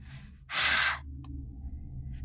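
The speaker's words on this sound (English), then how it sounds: "Can you hear me breathe through the mic?" One short, loud breath rushes straight into a close microphone for about half a second, then fades into faint room noise and a few quiet clicks.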